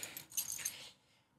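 A bunch of keys jingles briefly and close by, a short burst of bright metallic clinks that stops abruptly into quiet.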